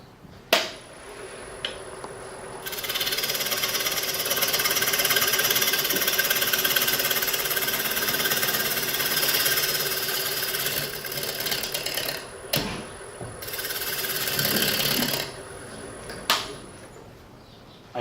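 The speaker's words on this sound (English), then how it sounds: "from here to here I will scrape, just to get rid of some of these high spots" A scraper tool works the high spots off a square wooden bowl turning on a lathe, a loud, rapid machine-gun chatter from the interrupted cut that runs on with short breaks near the end.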